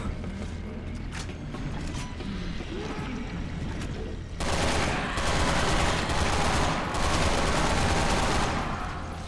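Gunfire in the video game Resident Evil 6: low rumbling ambience, then bursts of rapid automatic shots that grow louder and denser in the second half, with mechanical clatter.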